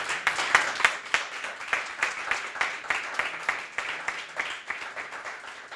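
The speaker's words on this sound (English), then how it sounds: "And please, great applause for them." Applause from an audience at a data science bootcamp demo day, with distinct individual claps standing out in an irregular patter rather than a dense roar, moderately loud and close, with no talk over it.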